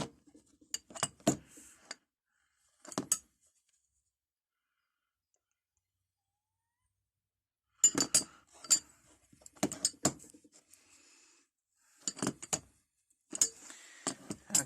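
Bahco adjustable wrenches clink and tick against one another in short bursts as they are flipped over, with a long silent pause between the early clatter and a denser run of metallic clicks later.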